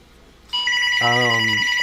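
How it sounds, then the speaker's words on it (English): A phone rings during an online meeting, a sudden electronic ringtone with a high steady tone joined by a lower buzzing chime, loud and close, lasting under two seconds. "I don't know whose phone that was, but okay."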